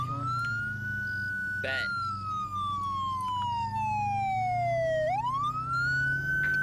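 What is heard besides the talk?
emergency vehicle siren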